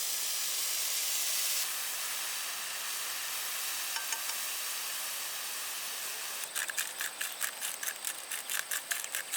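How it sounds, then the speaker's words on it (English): Chanterelle mushrooms sear in olive oil in a pan with a steady, close hiss and sizzle, and a rapid run of rattling, stirring clicks comes in near the end. "We sear the mushrooms and we season them with salt and ground pepper."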